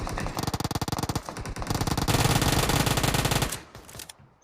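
Uzi submachine gun fire in the video game PUBG Mobile: loud, rapid bursts of shots, first in a stuttering rhythm and then in one long sustained spray that cuts off abruptly.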